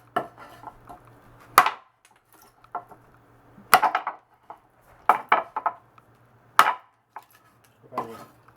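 Sharp, separate chops from a 5 mm thick W2 steel chopper knife, quenched to 62 HRC, cutting outdoors in the shade over concrete, come as loud, close impacts every second or so with short ringing tails and quiet gaps between.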